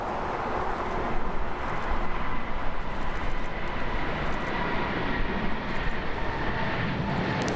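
Jet airliners departing an airport produce a continuous broad roar of engines, heard from a distance and steady throughout, with no talk.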